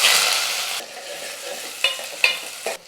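Sliced onions, cut lengthwise, frying in hot oil with curry leaves for sambar: steady broadband sizzle at first, then quieter frying broken by a few sharp stirring scrapes and clinks near the end.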